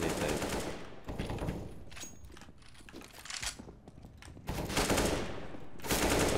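Gunfire rattles in Counter-Strike: Global Offensive, bursts of rapid automatic shots separated by quieter gaps and single cracks, loud and close, with heavy volleys at the start and end.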